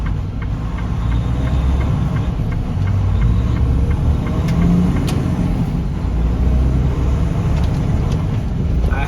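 A JB Hunt intermodal semi truck rolling into a Pilot Flying J fuel station, a steady low diesel engine rumble from inside the cab, continuous and fairly loud with no talking.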